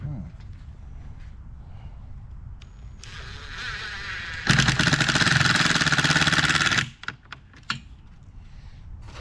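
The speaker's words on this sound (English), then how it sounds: "So now I need to screw those screws in nicely." A powered screwdriver drives screws into an automatic planter from Costco, a steady whir building and then surging into a loud, dense grinding burst for about two seconds before cutting off, followed by a few brief clicks.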